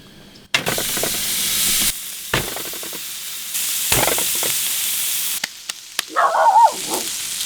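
Burger patties frying in oil on a camp setup, loud close sizzling and hissing in long bursts broken by short quiet gaps, with a brief high squeak near the end.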